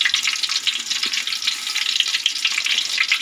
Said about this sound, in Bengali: তবে প্রথমে পেঁয়াজ বেরেস্তা করার জন্য পেঁয়াজ কুচি দিয়ে দিলাম